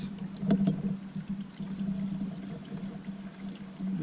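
Antifreeze is poured from a bottle into the cooling system of a 2006 Chrysler 300 SRT8, giving a faint, steady trickling stream with a few soft glugs near the start and nobody talking.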